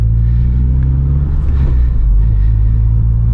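A car engine running with a freshly loaded tune 10, heard from outside the vehicle: a loud, steady low rumble that holds without a break, with only a slight swell in the middle.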